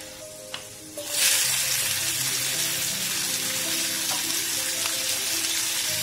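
Garlic drops into hot oil in a pan and bursts into a loud, steady sizzle that holds close and unbroken to the end, after a brief quieter moment.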